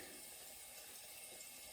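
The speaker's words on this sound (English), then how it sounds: "now we'll add water to it" Water pours steadily into a vase, a continuous bright splashing stream that holds even and fairly close throughout, with no talking.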